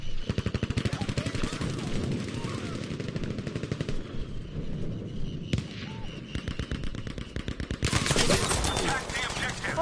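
Rifle fire in the online shooter Frontlines, including a slow-firing ZK rifle: rapid, continuous bursts of shots crackle almost nonstop, with short gaps between volleys and louder clusters near the end.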